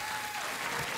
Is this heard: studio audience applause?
yes